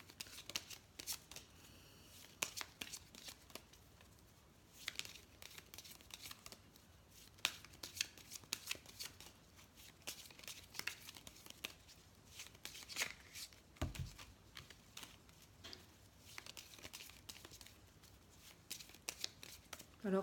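Tarot cards are shuffled and cut in quiet bursts of riffling and slapping, with short pauses between handfuls over a soft background.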